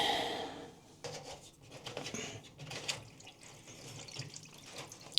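Water trickles and drips as a washing machine's drain filter is opened, a steady splashing flow with small rubbing and handling noises over a quiet room.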